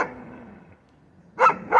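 A dog tied up on a chain beside a stream barks twice in close, loud bursts near the end, after a stretch of quiet outdoor background.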